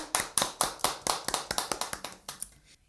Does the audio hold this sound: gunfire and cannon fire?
no